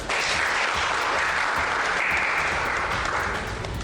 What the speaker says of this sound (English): Friends, a round of applause for Rishma.